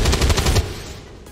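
A heavy cannon fires in the video game XCOM 2, a rapid loud burst of about eight shots in quick succession that then cuts off into a fading tail.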